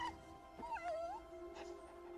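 A dog whimpers and whines in a high, wavering tone, a few drawn-out sliding cries over a steady background hum, fairly close and not loud.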